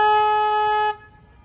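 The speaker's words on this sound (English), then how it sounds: "I will honk my horn for y'all" A river boat horn on a Rio river boat ride in San Antonio, Texas, gives one loud, close, steady tonal honk lasting about a second, then cuts off.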